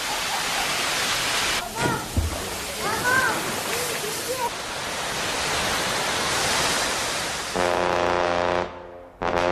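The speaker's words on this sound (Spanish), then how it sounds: "Las relajantes cascadas caen sobre 3 piscinas a distintos niveles, creando un ambiente de refrescante tranquilidad." Waterfalls cascade into three natural pools set at different levels, a steady, loud broadband rush of falling water that carries on throughout, with a few brief tonal calls in the first half and a heavier surge near the end.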